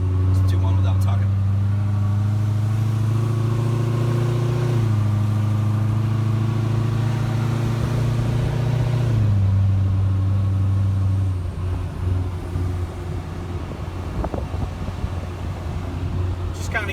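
A 2017 Corvette Z06 with a 1400 hp engine cruises at low speed, a deep steady exhaust drone that shifts pitch between gears, with wind noise and someone talking inside the cabin.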